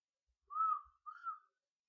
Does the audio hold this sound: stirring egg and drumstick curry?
no